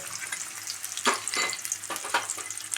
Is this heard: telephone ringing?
no